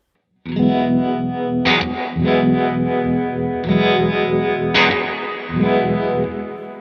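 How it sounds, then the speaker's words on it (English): Electric guitar chords run through a Flint V2 tremolo and reverb pedal with tremolo placed before reverb, the pulsing effect chopping the reverb tail; loud, sustained strums with two sharp re-attacks, no talking. "So tremolo is cutting the decay of that reverb"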